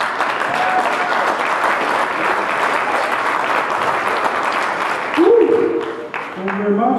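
Audience applause and cheering welcoming comedian Jonny R to the stage at a live comedy show in Mandan, loud and sustained, with a voice starting to talk near the end.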